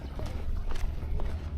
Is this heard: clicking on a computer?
no